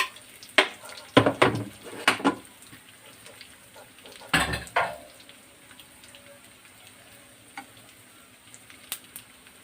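Boiled chana dal, tipped with its cooking water into a pan of tempering and stirred, gives a few sharp clanks and brief sizzling bursts separated by quieter stretches.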